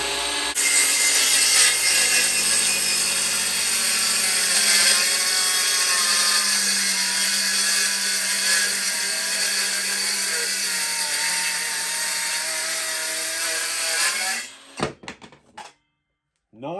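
A Parkside 20V cordless circular saw rips through wood with a loud, steady high-pitched whine lasting several seconds. The blade then spins down and stops abruptly, and a short pause and a few clicks follow.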